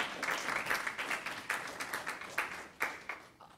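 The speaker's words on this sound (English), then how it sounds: "We should applaud for you, too. Applaud for the coach." A crowd applauds at a school board of education meeting honoring a state champion team and its coach, with steady clapping and a few louder bursts throughout.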